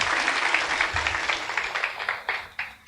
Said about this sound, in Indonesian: tepuk tangan dulu buat Yesus Tuhan yang ajaib itu